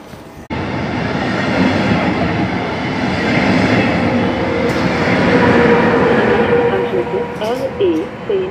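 An ICE train rolls loudly into a station with a steady rumbling roar, brakes squealing and whining toward the end; public announcement speech sounds under the noise.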